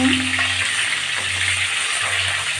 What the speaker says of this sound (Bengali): আমি মাছগুলো ভালো করে লাল লাল করে ভেজে নেবো